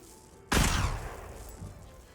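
Heavy bowgun firing spread ammo in Monster Hunter Wilds: a single loud, close blast bursts in suddenly and rolls off into a long fading rumble, over a steady low game ambience.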